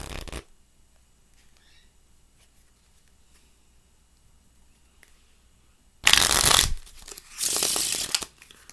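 A deck of playing cards riffle shuffled by hand without a table: after a long quiet stretch, two loud, dense bursts of rapid card flutter sound close by, with a short pause between them.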